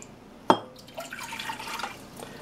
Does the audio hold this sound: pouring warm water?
yes